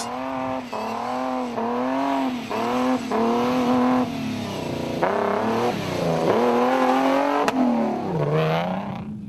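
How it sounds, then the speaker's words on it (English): A rough-sounding, worse-for-wear Toyota Hilux rally truck engine in the Dakar-style Toyota Dealer 400 rally drones loudly and continuously, its pitch wavering up and down through repeated revs close by, with no talk. "a slightly worse for wear and rough-sounding Toyota Hilux, with the pair headed for late retirement"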